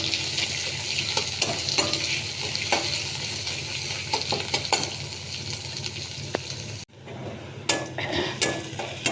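Chopped onion frying in a pan hisses steadily while a utensil stirs and scrapes in repeated clinks and knocks, with a short gap before the stirring resumes.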